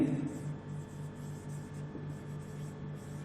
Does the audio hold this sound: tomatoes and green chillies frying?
no